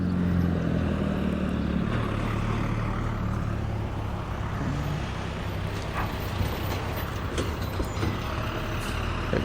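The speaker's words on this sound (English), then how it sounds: "Got these trucks to go by." Heavy trucks rumble past a railroad grade crossing on Galt Road in Galt, Illinois, a loud, close, continuous roar with hissing air-brake bursts and engine drone rising and fading as they go by.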